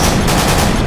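High-explosive shells fired in the Battlefield Iraq game, a dense, loud, continuous roar of blasts and rumbling over a brief moment.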